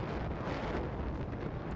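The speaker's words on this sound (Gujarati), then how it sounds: "ભારે પવનને પગલે સ્થાનિકોએ મુશ્કેલીનો સામનો કરવાનો વારો આવ્યો છે" Strong gusty monsoon wind over a rough sea near Diu on the Gujarat coast: a continuous loud rumbling blast buffeting the microphone, with no voices.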